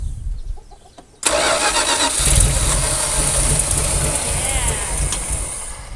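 An abandoned Dodge Power Wagon service truck cranks with a low rhythmic starter chug, then bursts into a loud rough engine roar that keeps running unevenly, with a brief voice heard near the start.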